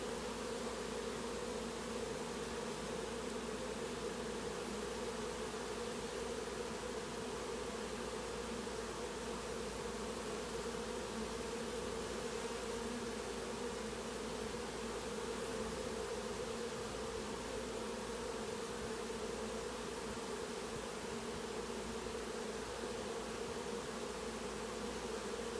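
Continuous, even hum of a honey bee mating swarm filling a yard, a broad droning buzz of many insects at a steady level throughout with no talking.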